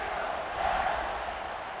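Stadium crowd noise in EA Sports College Football 26 just before a kickoff, a dense, steady roar of many voices heard alone and fairly loud, without a sharp swell.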